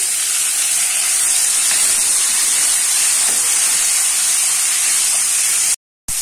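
Chopped tomatoes hit a hot pan in a home kitchen while making mixed-vegetable poricha kulambu, giving a loud, steady sizzling hiss that holds for several seconds before cutting out abruptly near the end.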